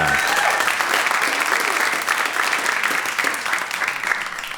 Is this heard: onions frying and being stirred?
no